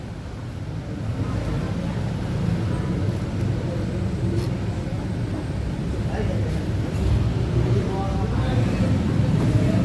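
A Yamaha NMAX scooter with a faulty pulser (CKP sensor) runs at a steady idle, a low continuous engine rumble heard close up with faint speech over it.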